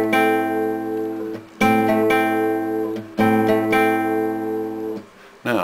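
Acoustic guitar plays the opening bar of the intro, three sustained strummed phrases that ring out with brief breaks between them, clear and close with no talking.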